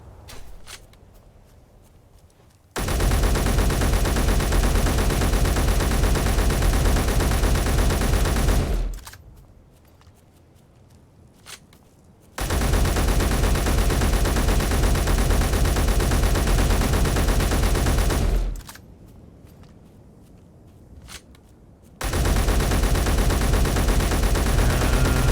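Gunfire from a combat mod in a video game comes as three long, loud, continuous bursts of rapid automatic fire, each lasting several seconds and separated by quieter pauses.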